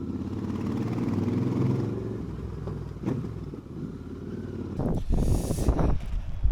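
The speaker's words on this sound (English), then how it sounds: "the Royal Enfield handles so well, even with a load of baggage on. It's just such an easy bike to ride." A Royal Enfield motorcycle loaded with baggage, ridden on a mountain pass road, its engine droning steadily close by with wind rush and a louder surge near the end.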